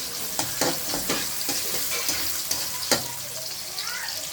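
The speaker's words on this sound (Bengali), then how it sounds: "শুকনো মরিচটা একটু লাল করে ভেজে নিচ্ছি, দিয়ে দিলাম পেঁয়াজ কুচি" Dried red chillies and chopped onion fry in hot oil with a steady close sizzle, broken by repeated scraping stirs of a spoon against the pan.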